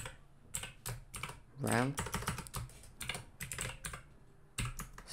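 Computer keyboard being typed on while writing code, a run of close, rapid key clicks with short pauses, while a person speaks a word over it.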